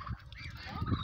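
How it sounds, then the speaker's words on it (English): A goose honks during bird feeding time, with short nasal calls rising over a noisy, close background of other fowl, brief and moderately loud. "The goose fights this."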